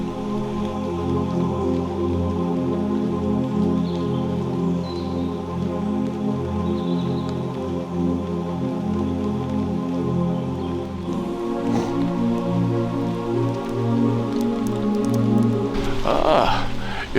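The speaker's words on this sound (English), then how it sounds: "I think I'm going to get out of the rain" Steady rain patters down continuously in the Wye Valley countryside, a soft even hiss with occasional drips, with a brief rustling burst near the end.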